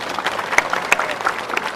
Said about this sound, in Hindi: बहुत सुंदर प्रश्न है, ताली बजा के धन्यवाद दें।